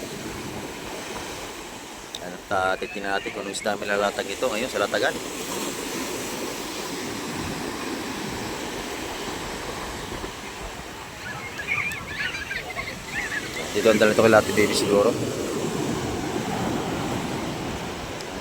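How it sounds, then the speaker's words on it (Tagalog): Large sea waves churned up by the monsoon wind roll against the shore at a fish terminal in Tanza, Cavite, a steady rushing surf under a voice that comes and goes. "Malakas pa ang ating alon ngayon."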